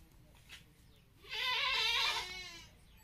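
A goat lets out one loud, wavering bleat up close, preceded by a fainter, shorter call, with quiet surroundings and no talk.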